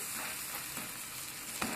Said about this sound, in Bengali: এটা আমার ভাজা হয়ে গিয়েছে এটাকেও আমি তুলে নেবো